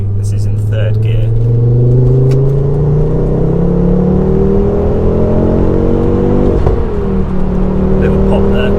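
Ford Focus RS Mk2 fitted with a new exhaust pulling hard in third gear, a loud continuous engine drone rising steadily in pitch, with a brief pop partway through and a speaking voice over it.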